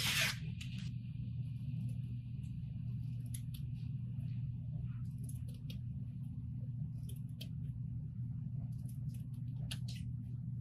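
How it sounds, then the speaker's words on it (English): Scissors snipping through fabric to cut out circles for a homemade costume, a steady close run of small cuts over a constant low hum, with no voice. "So we're going to cut out these circles"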